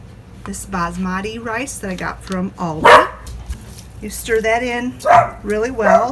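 A dog barks and yips in several short bursts in a home kitchen, partly overlapping a person who talks steadily while cooking rice.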